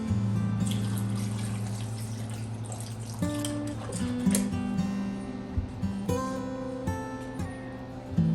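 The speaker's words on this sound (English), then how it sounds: "I'm gonna go rinse this immediately," Water runs and trickles from a tap while a sourdough jar is rinsed in a kitchen, with steady flow, small drips and clinks of the jar close by.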